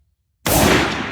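A single loud, close rifle shot from an Accuracy International AT308 breaks a moment of silence and fades into a short, dense echoing tail.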